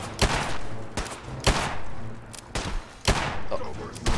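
Gunshots fired in VATS targeting in Fallout 4: about six sharp, loud reports spaced roughly half a second apart, each with a short echoing tail.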